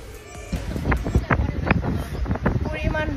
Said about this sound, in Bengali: এখানে প্রচুর বাতাস ছিল